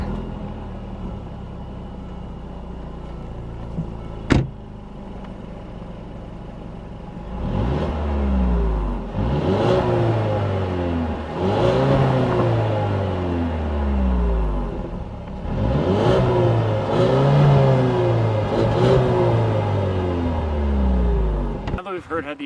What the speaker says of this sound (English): let's go to the back and get an exhaust clip of this beautiful Mercedes.